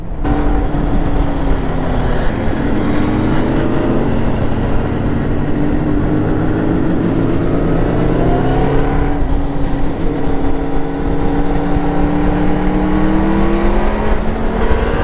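Two-stroke motorcycles, including a gold Kawasaki H2, ride along with a loud, steady engine drone and rising and falling revs, heard up close with wind noise throughout.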